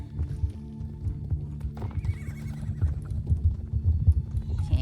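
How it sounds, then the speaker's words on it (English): A horse following a walker in a game neighs and whinnies while its hooves clip-clop steadily close by, with a low rumbling ambience underneath and no talk. "that horse following me is making quite the ruckus"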